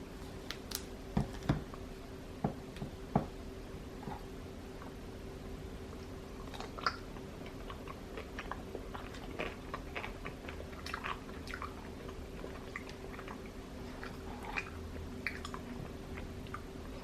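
Someone chewing a soft hot pretzel dipped in mustard, with faint moist bites and smacking scattered through a quiet room over a low steady hum, no talking.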